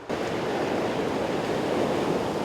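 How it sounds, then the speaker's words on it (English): Ocean surf rolls in along the beach at Cape Vidal under a rough, high sea, making a loud, continuous roar of white water with no pauses. "the white water is rolling because the sea's up"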